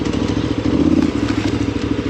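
A KTM 790 adventure motorcycle rides along narrow single-track trail, its engine giving a steady, close, loud pulsing drone with light clatter and thumps from the terrain, and no talk.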